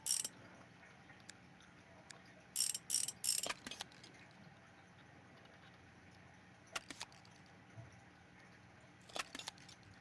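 Motorcycle bolts are removed in Motorcycle Mechanic Simulator, short ratcheting bursts in small clusters with quiet gaps between them, crisp and close.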